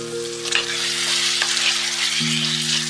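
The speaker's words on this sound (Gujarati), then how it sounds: "મીડિયમ ગેસ ઉપર આ મસાલાને સરસ શેકાવા દઈએ." Spice masala roasts in a pan over a medium gas flame, a constant close crackling sizzle accompanied by a steady low hum and a few soft stirring clicks, with no speech.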